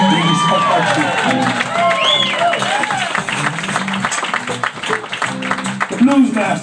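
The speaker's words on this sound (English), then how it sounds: "give my band a nice round of applause" A live audience at a Buckwheat accordion blues show claps and cheers for the band, with loud close clapping, whistles and shouted whoops running continuously.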